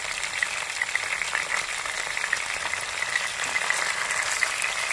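Koi fish frying in oil for a Bengali tel koi curry gives a steady, even sizzling hiss that runs unbroken from start to finish, with no voices.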